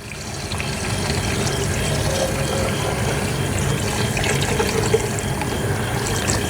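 Water and Simple Green cleaning mixture poured into a Kawasaki Mule carburetor part, a continuous close liquid rush and trickle running steadily and fairly loud from start to end.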